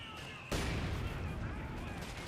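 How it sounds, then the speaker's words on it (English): Mortar fire in Company of Heroes 2 lands near Panzers, striking as a sudden loud blast after a brief quiet, then trailing into a dense, rolling rumble. "Mortar fire there, close to landing on the Panzers."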